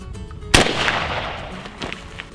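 A shotgun fires a single shot with a reloaded Fiocchi Exacta hull: one sharp, loud blast followed by a long ringing decay outdoors, with a fainter knock near the end.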